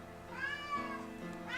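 A cat meows inside a Dragoon fighting game stream, a single drawn-out, wavering call with rising and falling pitch, fairly faint and set against steady background game sound.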